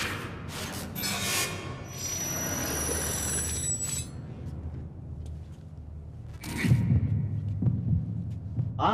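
A heartbeat effect in a thriller film throbs as low, steady pulses beneath a dense, rumbling soundtrack with high sustained tones, swelling louder toward the end.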